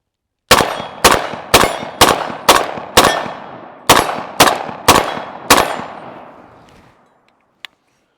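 Mini 14 rifle at an outdoor range fires ten loud, close single shots at a fairly steady pace, each a sharp crack with a ringing tail, followed by the echo fading out and a brief faint click.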